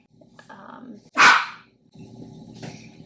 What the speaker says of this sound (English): If you hear Puppy Mayhem, they're both in here with me.